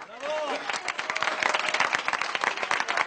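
Neighbours gathered outdoors at a protest against a home eviction applaud, scattered claps building into steady applause with voices and a brief whistle-like tone mixed in.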